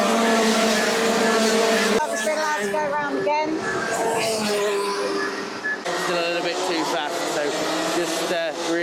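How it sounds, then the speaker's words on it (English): Racing karts run on a track behind a gantry at a kart circuit, their engines whining steadily and loudly throughout while a voice talks over them. "we've got the carts in the background"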